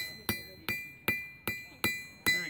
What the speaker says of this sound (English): Go ahead and hammer that down just a little bit again.